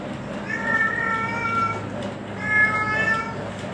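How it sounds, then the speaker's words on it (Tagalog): Two loud, drawn-out meows from a nearby cat, the second after a short pause, over a low steady background hum. "Ingay ng pusa."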